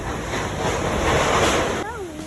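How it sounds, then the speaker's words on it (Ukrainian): A mountain river rushes in a steady, loud broadband wash of flowing water, with a voice briefly heard near the end. "Просто гірська річка."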